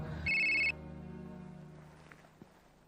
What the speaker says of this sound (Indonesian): Sel, lu kemana aja sih gue telepon, Rat?